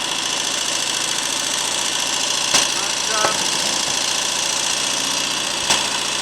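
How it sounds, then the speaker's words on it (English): A Royal Enfield Constellation motorcycle engine runs hot at a fast idle, a steady close mechanical thrum with a few faint knocks and clicks. "I've had the engine running for a good 10 minutes now, it's nice and hot."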